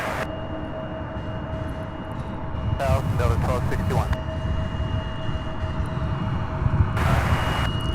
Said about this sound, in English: Southwest getting a move on as the MD-11 comes in for landing right behind it.